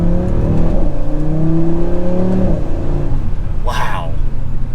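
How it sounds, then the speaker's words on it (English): A 2024 Audi RS3 with a stock five-cylinder engine revving up as it accelerates, a rising droning tone under a voice, with a brief whoosh near the end. "in the stock form, it sounds good. The 5-cylinder is a very unique firing order."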